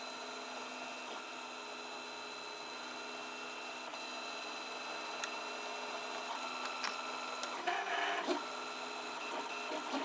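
A 3D printer runs several hours into a print with a corner of the part lifting and curling, its stepper motors humming and whining softly in a steady drone, with a brief louder scraping burst near the end.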